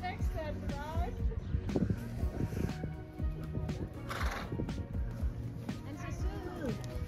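A Fjord horse whinnies loudly at an equestrian competition, the neigh rising and falling over hoof clops, with people talking close by throughout.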